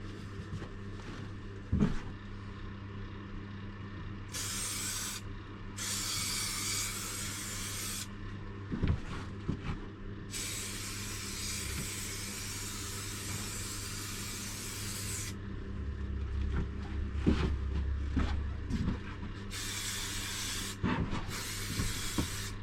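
Bursts of spray adhesive hiss from a can inside a Fiat Ducato camper van conversion, several sharp sprays of a few seconds each, close and loud over a quiet room with no speech.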